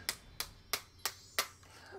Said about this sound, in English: This is me clapping.